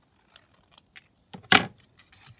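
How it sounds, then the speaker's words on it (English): Scissors trimming card in a crafting session: a few faint snips, then one sharp, close cut near the end, with quiet handling between. "And then just trim that down."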